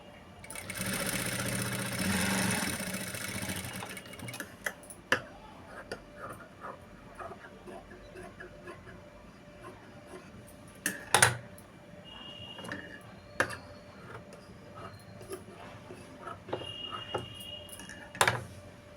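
A sewing machine stitches a blouse, opening with a loud steady whir of rapid stitching for about four seconds. Quieter stretches follow, with scattered clicks and short bursts of stitching.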